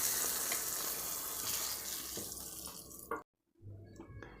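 Hot tempering with curry leaves poured into a chutney makes a loud, steady hiss of sizzling that fades, cuts off abruptly into near silence, then returns faintly with a few soft clinks.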